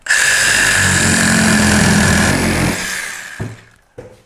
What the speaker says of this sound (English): Going to use a Milwaukee, #Milwaukee, reciprocating saw, and make hopefully a nice smooth cut.